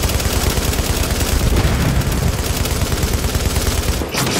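Gunfire in the video game The Division, with rapid, sustained automatic shots hammering loudly and continuously before cutting off near the end.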